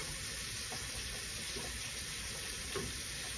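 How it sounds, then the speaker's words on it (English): Pork and pork rib go into a cooking pot for an African meal, giving a steady, quiet sizzling hiss throughout with a few faint soft clicks and knocks, and no voices. "I'm gonna add in my pork and my pork rib"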